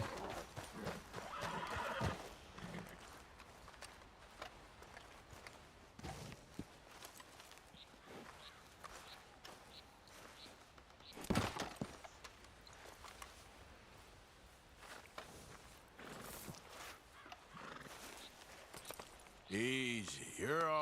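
Horses in the Red Dead Redemption 2 video game whinny and neigh close by, with hooves clip-clopping at a walk; a loud whinny stands out near the middle and another at the end, with talk running throughout.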